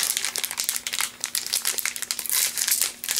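Plastic wrapping around Evangelion Bandai cards from an anime subscription box being crinkled and torn open, close and loud, a continuous stream of crackling crumples with no talking.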